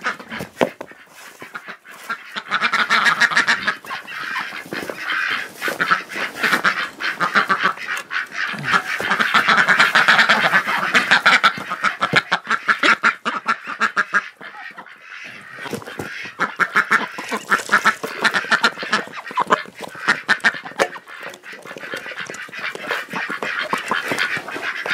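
A large flock of ducks quacks continuously and noisily nearby, with honking geese mixed in, a dense, overlapping chorus throughout.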